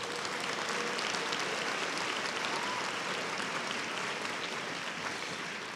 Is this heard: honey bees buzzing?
no